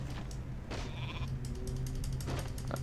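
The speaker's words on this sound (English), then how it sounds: "Let's kill this sheep." A sheep bleats in the video game WarCraft 3: Reign of Chaos, with a couple of short nasal baas over background game sounds.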